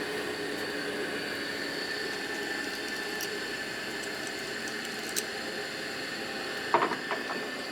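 A Harley panhead rocker arm is ground on a grinder for a stroker engine rebuild, a continuous steady whine with a brief sharper contact burst near the end.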